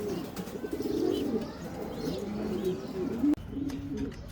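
A pair of golden pigeons coo softly and repeatedly at close range, low throaty calls with a single sharp click partway through.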